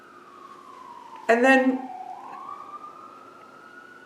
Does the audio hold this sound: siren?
yes